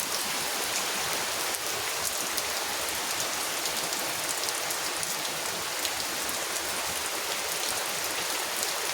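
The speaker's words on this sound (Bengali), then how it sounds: "আজকে প্রচুর বৃষ্টি হতেছে" Heavy monsoon rain pours steadily in a Bangladeshi village, a dense continuous hiss of drops hitting surfaces close by, unbroken for the whole stretch with no voices.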